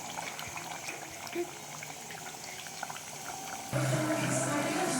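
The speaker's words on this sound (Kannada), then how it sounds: "ನೋಡಿ ಎಷ್ಟು ಚೆನ್ನಾಗಿ ಕುದೀತಾ ಇದೆ" Butter boiling down in a pan into ghee, a steady close bubbling with a slight bump in level near the end, voices talking over it throughout.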